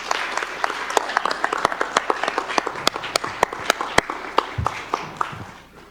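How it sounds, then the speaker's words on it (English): Audience at a candidates forum applauding, a dense run of individual hand claps that builds to a few sharp loud ones and then tapers off near the end. "The audience may applaud at this point."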